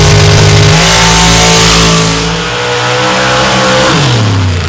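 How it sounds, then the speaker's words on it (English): A stock race car launches hard off the line with heavy tire spin during an evening qualifying session, its loud engine revving steadily up through the gears and dropping briefly at a shift, close and dominant with no talk. "A lot of tire spin for Williams coming off the line there in the right-hand lane"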